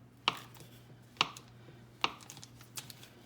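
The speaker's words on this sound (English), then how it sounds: "I'm just gonna take my butter knife and just go down through here." A butter knife slices down through a dump cake in a baking pan, giving four sharp, separate cuts spaced about a second apart. Each cut is short and crisp against a quiet background with no talking.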